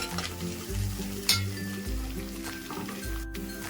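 Onions with ginger-garlic paste fry in a pan for a fish curry, with steady sizzling, a few stirring scrapes and a light clink of a utensil.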